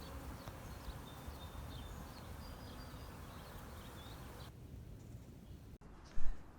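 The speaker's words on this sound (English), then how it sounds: "what those bees were doing is they were actually doing a cleansing flight" Honey bees buzzing outdoors on a cleansing flight after a thaw on a farm, a steady low swarm hum throughout with occasional faint chirps above and a brief louder bump near the end.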